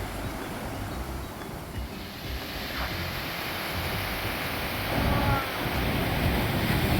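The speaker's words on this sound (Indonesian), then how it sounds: "Hamparan laut yang luas, cakep nih, ombaknya cukup besar." Continuous roar of large ocean waves rolling onto a beach at Anyer, Indonesia, with a swelling wave surge toward the end and some wind rumble.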